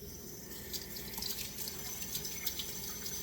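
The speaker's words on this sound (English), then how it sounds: "Now we have to rinse these. Rinse your raspberries." Water runs steadily from a tap, splashing and pattering unevenly as raspberries are rinsed beneath the stream.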